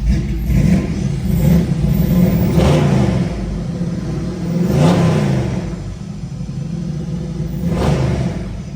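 Orange 1969 Chevrolet Camaro with headers, a performance cam and a cowl hood, its engine revved several times: deep rumbling idle rising into loud surges around the third, fifth and eighth seconds, close and alone without talk.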